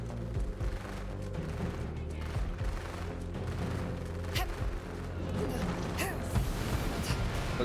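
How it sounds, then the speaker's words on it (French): Gunfire in Borderlands 3 DLC combat, a fairly faint, dense mix of scattered shots and mechanical clanks over a rumbling game backdrop, with occasional louder cracks. "Oh, les tirs, je sais pas d'où ils viennent."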